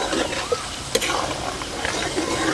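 Gongura chicken pickle spices with salt and a handful of curry leaves being stirred and fried in a pan, a steady close sizzle with scraping spoon strokes and a couple of sharp knocks against the pan.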